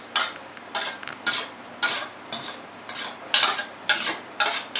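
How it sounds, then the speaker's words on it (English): A utensil stirring salad dressing with salt and mustard in a bowl, giving repeated scraping swirls in a steady rhythm of about ten strokes, close and fairly clear. "Stir that all up."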